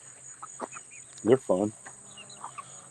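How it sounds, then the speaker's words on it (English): Large Cornish-hen-type chickens cluck in a short burst of two loud calls near the middle, with fainter clucks and chirps around them outdoors and a brief spoken remark. "So we got some monster chickens."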